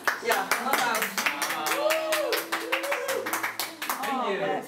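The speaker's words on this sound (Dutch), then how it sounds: "applaus" Audience clapping after a live singing performance, dense and continuous for several seconds, with voices talking over the applause throughout.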